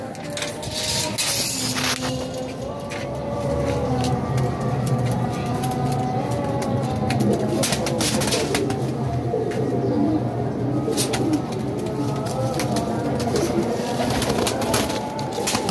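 Pigeons cooing steadily in a loft of show pigeons, a dense layered chorus of low throaty coos close by and loud, over a constant background hum, with no one speaking.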